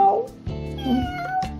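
A person imitates a cat meowing, voicing two short, close, clear "meow" sounds that rise and fall in pitch, with brief pauses between them, while a child draws a cat picture at home.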